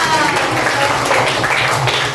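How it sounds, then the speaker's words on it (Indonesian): A classroom of students claps together, a steady dense patter of hands filling the room from start to finish, with a voice faintly underneath. "Beri tepuk tangan buat Saka."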